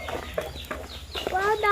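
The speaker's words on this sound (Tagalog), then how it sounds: "Wow, dami nila manok." Several chickens cluck nearby in short, uneven bursts, with a higher squawk near the end.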